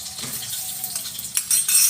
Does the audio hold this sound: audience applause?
no